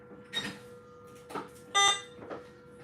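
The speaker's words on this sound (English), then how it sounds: "This thing just beeping." An electronic device gives several short beeps, a few separate chirps at uneven intervals over a steady hum.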